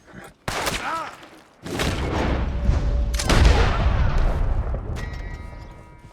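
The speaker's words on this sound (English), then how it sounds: "Why are you shooting at me?" Gunfire in Red Dead Redemption 2: several loud, sharp shots with booming tails crack out one after another, each ringing on for a moment, with a brief voice near the start.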